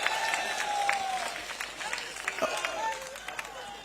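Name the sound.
crowd clapping for Narayan Singh Dewal at election rally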